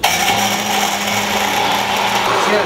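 A blender runs continuously at high speed, whirring as it blends harissa sauce with olive oil, a loud steady motor drone with a whining tone throughout.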